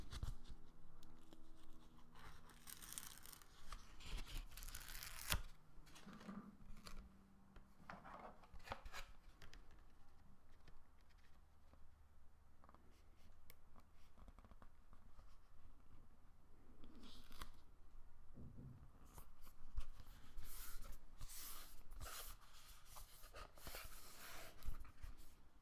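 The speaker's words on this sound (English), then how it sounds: "let me peel this off" Protective film is peeled off a Pocket Monopoly case in a quiet ASMR setting, with soft crinkles, scratchy rubs and occasional sharp crackling pulls heard close up.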